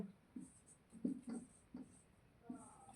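Pen or chalk writing out a maths answer during a lesson on statistics, a few faint separate scratchy strokes at an even pace, quiet and close.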